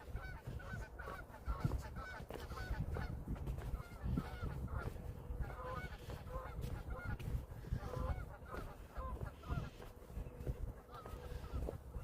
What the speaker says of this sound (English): Hopefully you can hear the geese.